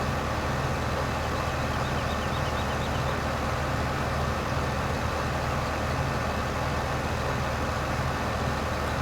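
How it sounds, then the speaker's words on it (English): Steady low rumble of a tractor engine in Farming Simulator 15, droning continuously and fairly loud throughout with no distinct brake hiss standing out. "I swear, it sounds like these tractors have air brakes"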